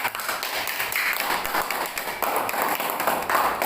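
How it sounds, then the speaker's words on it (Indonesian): A school class claps for a group of classmates, scattered and uneven hand claps from a modest number of students that continue fairly steadily at moderate loudness. "tepuk tangan buat kelompok 4"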